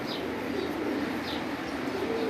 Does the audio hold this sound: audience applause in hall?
no